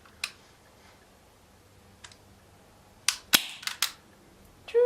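An ICS Makarov airsoft pistol fired without a suppressor, a handful of sharp snapping shots, single at first and then several in quick succession, close and clear over quiet room tone with no talking.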